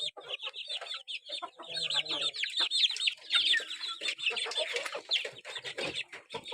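Chickens and chicks in a coop on a cold day, with a hen and several chicks: soft continuous clucking and high peeping chirps overlap throughout, fairly faint and steady, with a few low clucks mixed in and no talk.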